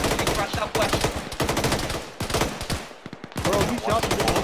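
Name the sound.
machine gun fire from an MT-LB vehicle in video game Arma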